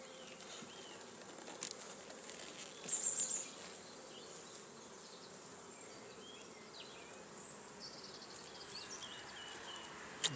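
A swarm of bees buzzes around a WBC hive with frames holding nectar, a soft, steady outdoor drone with individual bees passing close now and then and a couple of brief louder knocks, no voices.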